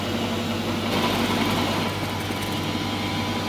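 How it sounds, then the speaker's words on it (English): A drill bit bores a deep 45 mm hole in free-cutting brass on a lathe tailstock setup, giving a continuous droning machine hum with a faint grinding edge and steady level throughout. "You can see the chips coming out of the drill."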